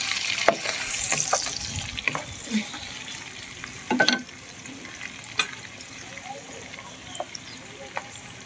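Onions and green chilies sizzle and fry in a pan for egg curry, a steady close crackle with scattered stirring scrapes and clicks throughout.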